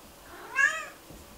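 A single domestic cat meows once, a short rising-falling call at moderate loudness, close by and alone over a quiet room background.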